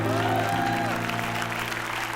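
Audience applause for a singer on a televised dangdut stage show, a short stretch of continuous clapping blended with sustained musical tones from the band.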